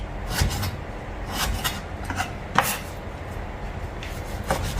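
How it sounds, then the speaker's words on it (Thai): A knife slices across pork belly on a cutting board in a home kitchen, giving a few distinct rubbing strokes and soft knocks against the board at an uneven pace, up close and clear. "เราก็จะหั่น หมูนะคะตามขวางแบบนี้ค่ะ"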